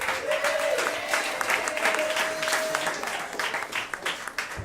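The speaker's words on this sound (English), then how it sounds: "Everybody clap your hands for Josh Rosenstein." A comedy club crowd at The Pulp in Asheville applauds a comedian coming to the stage, a steady wash of clapping with cheers and a brief whistle-like tone, tapering near the end.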